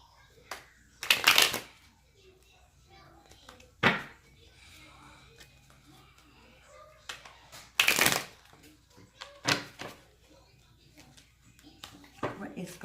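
Tarot cards are shuffled in a few short, crisp riffling bursts, with soft handling and tapping between them and quiet pauses in a calm indoor setting.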